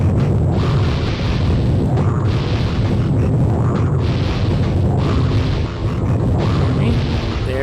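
Cannon explosions in the video game Frogger's Adventures: Temple of the Frog, with loud, booming blasts repeating steadily over a continuous rumbling background.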